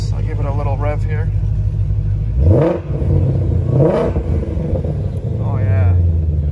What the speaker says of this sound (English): So I'll give it a little rev here.